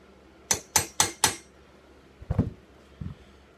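Four sharp metallic taps fall in quick, even succession as a punch is hammered onto the axle of a toy car, followed by a softer scrape and a single light knock.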